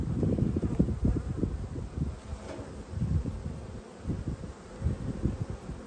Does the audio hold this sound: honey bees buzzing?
yes